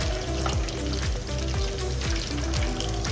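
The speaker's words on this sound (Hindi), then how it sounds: "गाइस, मछली हमारी दूसरी साइड से भी फ्राई हो चुकी है।" Fish frying in hot oil, a continuous crackling sizzle with bubbling and popping, close and steady, with no talking over it.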